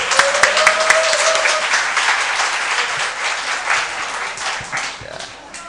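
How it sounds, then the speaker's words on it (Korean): A church congregation applauds to welcome a visiting brother, with dense clapping close by that starts strongly and tapers gradually, a few sharp individual claps standing out early on. "박수 할게요."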